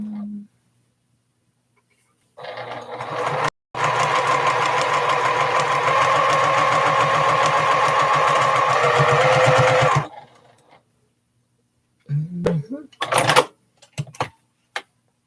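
A sewing machine runs steadily for several seconds stitching small crumb pieces of quilt fabric, a loud mechanical whir that stops abruptly, followed by brief handling clicks.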